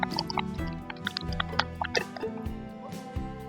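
Okra (ladies finger) frying in oil for achari bhindi, with steady crackling and popping spatters close by and small wet plops scattered throughout.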